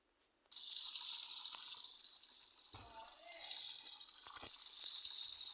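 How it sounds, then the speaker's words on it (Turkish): A tap runs into a sink for hand washing after a moment of near silence, a steady close splashing gush with brief shifts as the hands move under the stream. "Ellerimi yıkayayım."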